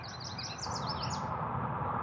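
A bird sings a busy, varied series of high warbling notes, soft and somewhat distant over a constant broadband background hiss.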